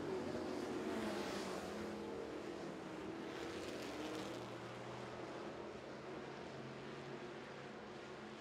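Street stock race cars circle the oval at Smoky Mountain Speedway, their engines merging into a steady, distant roar that fades slightly over several seconds with no voices.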